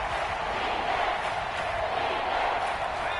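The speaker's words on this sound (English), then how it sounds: "the crowd getting into it as we come up on a big 3rd down" A stadium crowd roaring steadily in a PS4 football video game as a big third down approaches, a dense, loud, unbroken wall of cheering and noise with a commentator's voice mixed underneath.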